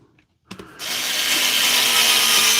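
A DeWalt power tool drives a screw into wood, whirring steadily and close after a few brief knocks as the bit engages.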